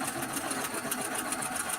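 A sewing machine runs steadily, stitching fabric with a quiet, continuous mechanical whir and rapid needle ticking, close and without talk.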